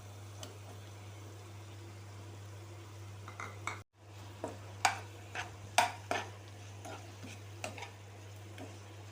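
Soft scraping and clinking of a spoon stirring eggplant curry in a pan, in a few irregular strokes over a steady low hum, with no talking.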